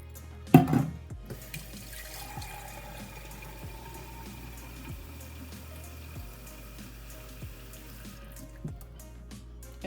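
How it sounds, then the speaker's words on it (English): Second cup of water poured into a cooking pot holding garlic, habanero pepper and oxtails for Haitian legume, a short splash near the start followed by faint trickling and soft kitchen clatter. "We'll add our 2nd cup of water."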